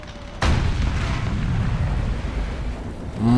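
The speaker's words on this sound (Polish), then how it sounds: "akurat przede mną spadły bomby" Bombs exploding nearby in the tank game War Thunder on an El Alamein desert battlefield: a sudden loud blast erupts and rolls into a sustained heavy rumble that carries on to the end.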